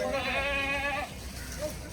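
A calf bleats loudly and close for about a second at the Chalisgaon cattle market, followed by quieter background noise and a brief voice.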